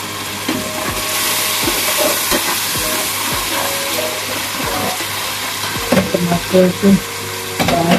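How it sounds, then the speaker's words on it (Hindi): Tomatoes hit a pan of frying onions and spices, producing a close, steady sizzle with crackles and a few clinks of a utensil against the pan. "अब साथ ही हम इसमें ये टमाटर जो है वो मैंने 2 छोटे साइज के लिए थे, ये इसमें डालें।"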